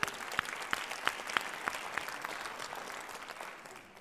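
Faint applause from an audience for a panel at an academic event on public participation, with a few distinct claps early on before the clapping thins and fades toward the end.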